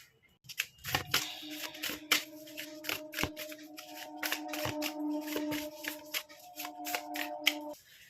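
Tarot cards shuffled and drawn by hand: close, rapid riffling and slapping with card flicks, over soft sustained background music.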